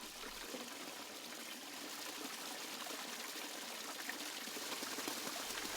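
A garden pond waterfall fed by a 550-gallon-per-hour pump pours in a steady, full rush of splashing water that fills the whole stretch, the flow swelling slightly as it goes on, with no voices over it.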